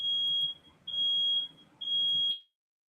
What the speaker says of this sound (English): these smoke detectors are so sensitive